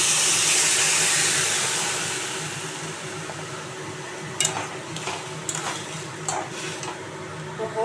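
Hot water poured onto fried potatoes in a hot pan sets off a loud, broad hiss that fades over several seconds, followed by softer bubbling and a few light clinks of a utensil.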